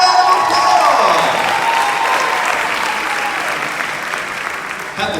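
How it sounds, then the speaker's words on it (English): A large audience at a formal gala event gives a loud, dense round of applause with some crowd noise and light cheering, holding steady for several seconds before easing slightly. "Give yourself a round of applause!"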